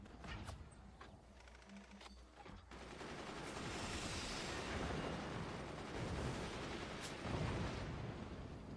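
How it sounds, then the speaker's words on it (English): Heavy mortars in the Forts strategy game fire and land in a rolling barrage of dull booms and crackling impacts, a dense, sustained rumble after a few sharp early shots. "Heavy mortars actually landing through the lot."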